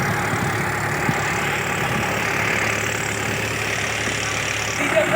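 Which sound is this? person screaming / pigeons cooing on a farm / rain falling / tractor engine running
tractor engine running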